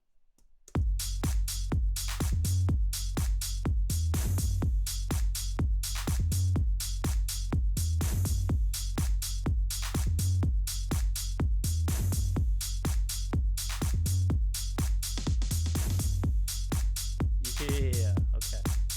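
A drum beat of kicks and hi-hats programmed in FL Studio plays loud and steady, with punchy booming kicks repeating in a regular pattern under crisp hi-hat ticks, looping for the whole stretch without any voices.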